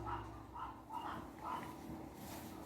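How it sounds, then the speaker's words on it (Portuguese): A dog barks in a faint, distant run of four or five evenly spaced barks over a low background hum, with no voices. "E o cachorro tá latindo."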